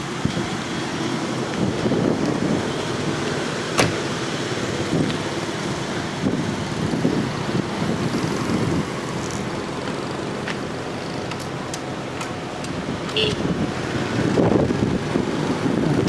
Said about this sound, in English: Quite windy and not that hot.